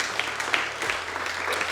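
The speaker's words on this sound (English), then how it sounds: "Give each other a round of applause" A team at a business meeting applauds one another in a short, moderately loud burst of clapping over a low steady hum.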